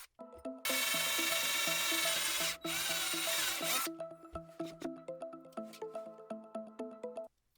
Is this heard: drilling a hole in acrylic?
yes